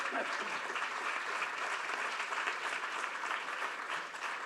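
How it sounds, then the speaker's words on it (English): Audience applause for a conference panel on marine knowledge and ocean health, a steady, dense clapping from a sizeable crowd filling the whole stretch at even loudness. "A warm round of applause for our panel."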